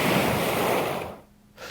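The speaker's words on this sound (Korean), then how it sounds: "그 돌들이 구르는 소리입니다" Stones rolling and tumbling in ocean surf make a dense, close wash of broadband noise that fades sharply near the end before a brief swell returns.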